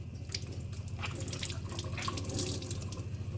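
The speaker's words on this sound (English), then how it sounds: "I wet my sponge. I usually do this with some cold water." Cold tap water runs steadily from a faucet into a sink to soak a sponge for a wet paint palette, a continuous close splashing stream with no voices.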